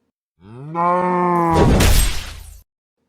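A Minecraft cow lets out a single loud, drawn-out moo, which ends in a harsher, noisier burst before cutting off abruptly.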